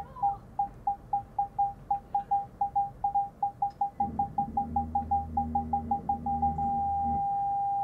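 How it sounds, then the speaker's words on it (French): A car's parking sensor beeps in a steady series, the beeps quickening until they merge into one continuous tone, with a low engine hum beneath. "Sur une voiture classique, vous entendez, on a des bips"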